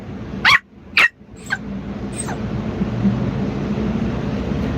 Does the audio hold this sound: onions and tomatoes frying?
no